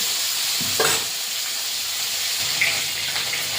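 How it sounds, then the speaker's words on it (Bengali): Shol (snakehead) fish frying in hot oil in a heated wok, a steady close sizzle and hiss that continues throughout with a few brief louder spatters. "মাছগুলো তো এক এক করে ভেজে নেব।"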